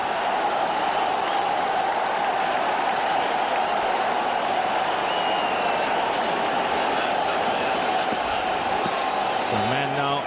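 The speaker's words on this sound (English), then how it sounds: "Crowd has come alive here at the Eden Gardens" Cricket crowd at Eden Gardens swelling into sustained roar and applause after an Indian wicket, a dense continuous wash of noise with commentary voices talking over it.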